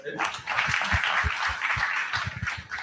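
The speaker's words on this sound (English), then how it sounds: "we can give him a huge round of applause" A studio audience in Hyderabad breaks into a round of applause, a dense steady patter of many hands running throughout, with a voice talking over it.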